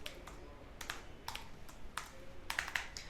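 A password is typed on a computer keyboard: a few separate keystrokes, then a quick cluster of clicks near the end, close and clear with no talking.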